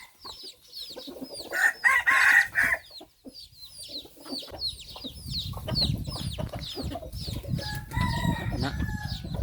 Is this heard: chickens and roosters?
yes